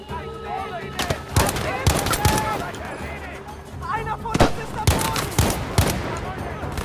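Battlefield 5 video game gunfire: repeated sharp shots and bursts of automatic fire with loud cracks, a dense battle mix over about seven seconds, with some voices mixed in.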